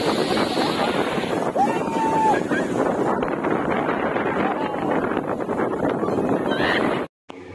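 Waves at Puri beach wash in as a broad, continuous roar of surf with heavy wind buffeting the microphone. The sound is loud and close and runs steadily before cutting out abruptly near the end.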